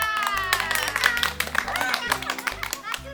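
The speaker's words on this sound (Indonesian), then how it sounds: "Tepuk tangan buat kita." Hand clapping during an online children's class, a few sharp claps standing out over background music, fairly close and lively.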